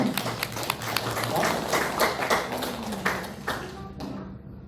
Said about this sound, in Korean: 우리 두 분 또 박수로 감사해.